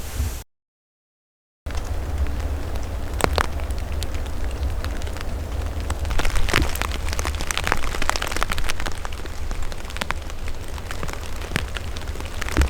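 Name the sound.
rain falling on a tent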